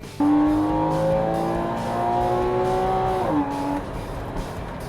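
A 2014 Porsche Cayman with a 275 hp engine drives hard through tight turns, its engine note holding a steady loud pitch before dropping sharply as it lifts off, with tire noise underneath.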